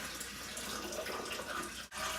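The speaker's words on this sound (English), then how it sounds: "The measuring cup breaks the force of the water, so that instead of slamming into the sand, it kind of evenly spills over the lip" Water poured over a measuring cup into an aquarium with sand: a steady, close splashing flow under gentle trickling, with a brief break near the end.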